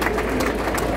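Dense concert applause from an audience at a theatre recital fills the moment with continuous close clapping and crowd noise.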